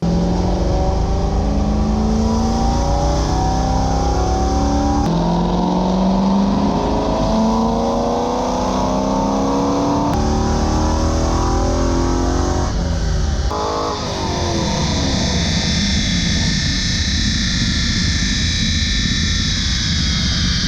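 A tuned Corvette C5 with a cam, long tube headers and bolt-ons revs hard on a dyno, its engine note climbing and sweeping steadily for about twenty seconds, loud and close, with a brief lift before pulling again.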